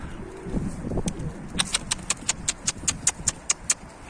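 Van pigeons near a loft, with soft low cooing early on, then a quick run of sharp, evenly spaced clicks or claps that repeats about a dozen times, close and fairly quiet.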